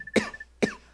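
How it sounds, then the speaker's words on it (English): Two sharp coughs from a sick person, evenly spaced about half a second apart, close and distinct with game audio humming faintly behind them. "Sorry if I'm coughing, but..."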